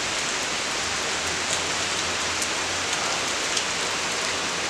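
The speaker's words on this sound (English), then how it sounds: "I'll just see which way the rain is going, how long it'll last" Steady rain pours down in a continuous, even hiss close by, with occasional brief sharper drips and no voices.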